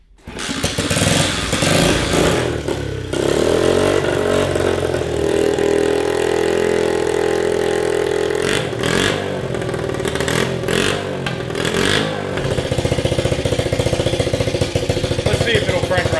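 A worn-out pit bike's small engine runs loud and close, a steady buzzing idle broken by throttle blips that rise and fall, with rattling clatter and voices talking over it.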